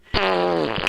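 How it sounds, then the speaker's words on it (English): A fart sound effect fired from a soundboard: a single loud buzzy blurt just under a second long, steady and tonal, close and alone. "On the soundboard is called Arty Farty Annie, as it happens"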